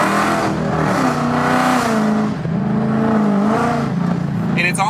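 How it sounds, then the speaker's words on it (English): A loud, raspy straight-piped Dodge Challenger Scat Pack 1320 exhaust drones and rumbles steadily up close, the engine note wavering slightly as it idles and revs gently. "hopefully you guys are gonna be able to hear the car here,"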